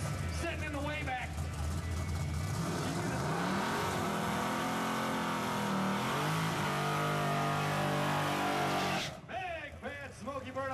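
A big-block Chevelle drag car accelerates hard down the strip in grudge racing, its engine roaring loud and steady for several seconds with rising pitch, then cutting off near the end as a commentator's voice carries over it.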